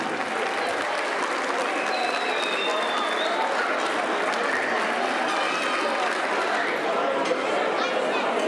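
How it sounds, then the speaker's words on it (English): Sustained audience applause fills a dance concert hall at a folk ensemble's anniversary show, a dense steady wash of clapping with crowd chatter mixed in, loud and even throughout. "Round of applause"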